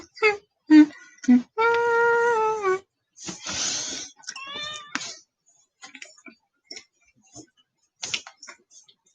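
A pet cat meows several times up close, with drawn-out, tonal calls that rise and fall between short pauses and quieter ticking noises, and nobody speaks.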